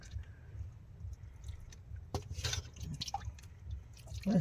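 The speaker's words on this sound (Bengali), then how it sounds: "হালকা ঝোল দিয়ে দেয়" A little pomfret fish curry broth is poured, giving soft drips and a brief liquid splash close by. The sound is quiet and there is no talking.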